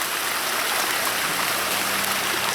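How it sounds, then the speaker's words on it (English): A waterfall spills into a pond on a mossy creek bed at Bull Creek, a steady broadband rushing and splashing, loud and close, with no voices. "I've encountered a waterfall here with a creek bed of moss flowing southbound."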